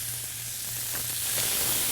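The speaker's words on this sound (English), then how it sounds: "the sizzle once it hits the pan." Veal chops sizzle on a hot grill plate, a steady broadband crackling hiss that holds throughout and swells slightly louder toward the end, with a low hum beneath.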